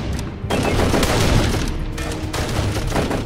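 An MP18 submachine gun rattles off in the video game Darkest of Days, loud close firing in dense bursts with a short break between volleys, set against a busy battle background.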